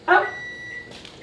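A brief electronic kitchen timer beep sounds once at the start while baking sugar cookies, close and clear, followed by a faint steady hum.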